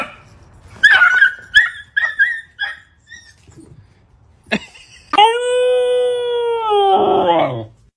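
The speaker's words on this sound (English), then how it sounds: "This puppy was just running." A puppy by the ocean yips and barks in a quick burst of short calls, then lets out a long, loud, wavering howl that breaks into whimpers; close and clear.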